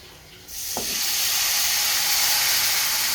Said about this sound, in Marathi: तर फोडणी झाली, आता मी त्याच्यामध्ये ना भाजी टाकून घेते.